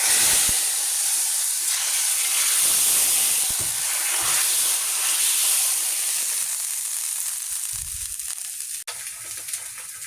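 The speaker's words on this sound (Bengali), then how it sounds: "এই যে এবার একটু ফোড়ন দিয়ে দেব।" Whole spices crackle and hiss in hot oil during tempering for a fish and tomato curry, a loud, steady, close sizzle that continues throughout with occasional soft stirring knocks.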